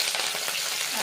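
Curry leaves dropped into hot oil for chili chicken, a loud dense crackling sizzle close up, steady for its brief length.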